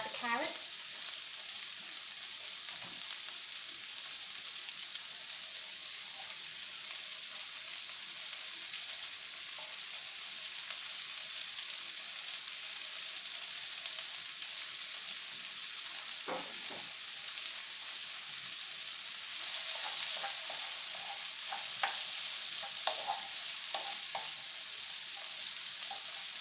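Carrots stir-frying in a pan for chicken chow mein, a steady close sizzle and crackle with occasional scrapes of stirring, continuous throughout with no talk.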